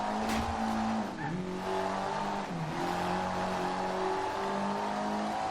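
Mitsubishi Evo VI rally car in the video game Forza Horizon 2, its engine droning steadily and rising through tight, close-ratio gear changes with brief dips between shifts, heard continuously without talk.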